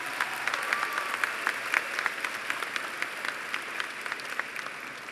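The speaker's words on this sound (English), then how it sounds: "If you would give them a round of applause to show your appreciation," Graduation audience in a high school ceremony hall applauding, a steady dense wash of clapping with scattered sharper claps throughout, moderately loud and without talk.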